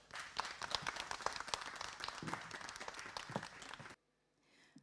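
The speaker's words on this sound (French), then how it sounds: "sous vos applaudissements" An audience claps and cheers in sustained applause for about four seconds, then it cuts off abruptly into near silence.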